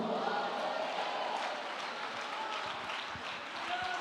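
Church congregation applauding during a sermon, a steady wash of many hands clapping together at moderate volume, continuous throughout with faint voices mixed in.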